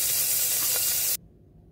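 Chopped onion hitting hot oil with cumin for lauki chana dal gives a loud, steady hissing sizzle for about a second before cutting off abruptly, leaving a faint low hum.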